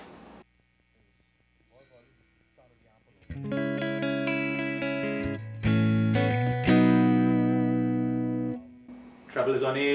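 Electric guitar through an amp with reverb, treble at 8, bass at 5, reverb at 2.5 and no tremolo, captured with a GLS ES57 mic. Sustained chords ring loud and clear after a quiet, hummy start, and brief talk follows.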